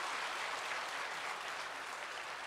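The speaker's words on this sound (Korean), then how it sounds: "박수로 환영하도록 하겠습니다." A church congregation applauds steadily for a local district mayoral candidate and elder, a dense, even clapping that fills the hall with no voices above it.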